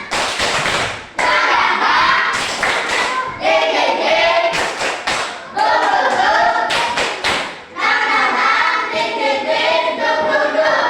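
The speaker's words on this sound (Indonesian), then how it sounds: "Tepuk tangan dulu kalau sepakat." A classroom group claps in several rhythmic bursts separated by short pauses, loud and close, the hand slaps sharp and thumping.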